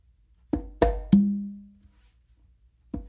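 Conga strokes from a three-drum slappy exercise: three sharp hits in quick succession, the last an open tone ringing and fading, then a pause before one more crisp stroke, close and unaccompanied.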